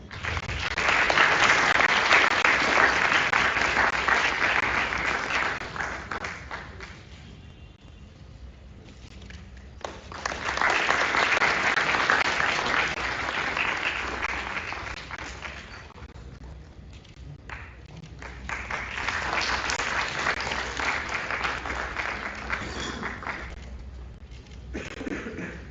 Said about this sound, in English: Let's invite him with a big round of applause.